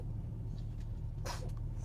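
A single short sneeze bursts out near the middle, close and fairly loud, over a steady low hum with no talking.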